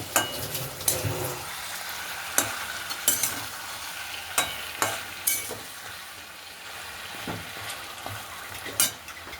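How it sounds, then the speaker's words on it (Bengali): Ground black pepper being stirred into frying food in a pan, a soft continuous sizzle broken by sharp scraping clanks of a spoon against metal, recurring every second or two up close. "একটু গোলমরিচের গুঁড়ো দিচ্ছি, নেড়ে দিচ্ছি।"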